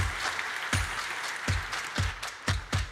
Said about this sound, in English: give a big round of applause to David from Fastcast.